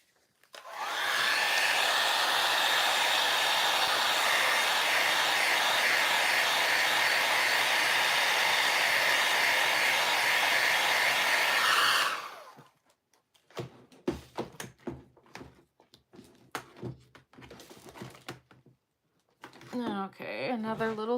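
A heat tool drying a handmade Christmas tag blows a loud, steady, close whoosh for about twelve seconds and then cuts off, followed by light tapping and handling noises and someone speaking briefly near the end.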